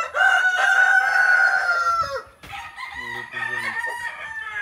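Native chickens squawking and clucking loudly over their eggs, a sustained agitated cry giving way to a run of shorter, rhythmic clucks, close by with no talk.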